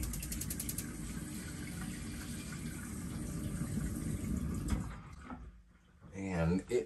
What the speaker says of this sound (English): We flick on this hot water.